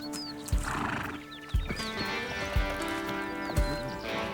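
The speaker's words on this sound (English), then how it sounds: "horses range from their powerful 45 km/h gallop to the 20 km/h canter, the 15 km/h trot, down to a slow walking pace." Horses moving at pace with heavy hoofbeats thudding roughly once a second, mixed with neighing and whinnying over a dense outdoor background, with no talking.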